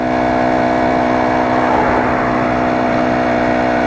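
A motorized bicycle's 4-stroke GX35-clone engine runs nearby with the throttle opened slightly, a steady, buzzing mid-pitched drone that swells a little in revs and holds constant, loud and alone.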